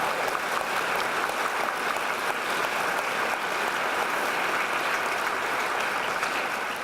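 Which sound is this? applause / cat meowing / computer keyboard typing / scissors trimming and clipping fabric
applause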